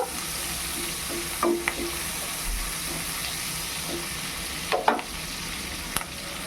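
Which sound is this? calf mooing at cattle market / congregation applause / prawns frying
prawns frying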